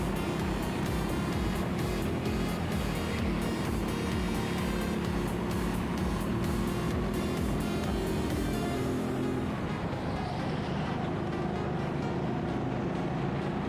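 Racing karts run down a straight and round a hairpin bend at a Team Sport Leicester track, a continuous loud engine roar with pulsing passes throughout, easing slightly in the final seconds.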